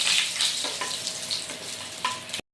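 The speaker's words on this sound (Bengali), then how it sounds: "এখন মাছ ভাজা তেলে দিয়ে নিচ্ছি 3টা শুকনো লঙ্কা আর 2 টুকরা তেজপাতা" Three dried red chillies and two bay leaves crackle and sizzle in hot oil left from frying fish, a loud, dense frying hiss with a few spoon scrapes. The sound is close and cuts off abruptly at the end.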